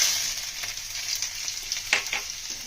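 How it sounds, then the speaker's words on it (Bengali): Whole cumin, a pinch of asafoetida and chopped ginger crackle in hot mustard oil, a bright steady sizzle with a few sharper pops, close up and without speech. "তেল দিয়ে দিলাম সর্ষের তেল আমরা গোটা জিরে ফোড়ঙে দিয়ে দিলাম একটু হিং দিয়ে দেবো"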